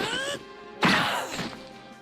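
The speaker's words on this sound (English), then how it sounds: "I think the scene where Luffy punches Vivi is actually executed in a way that doesn't fall into this trope" Punch impact from the One Piece anime, a single sudden loud whack that rings out and fades over a second, following a brief stretch of dialogue.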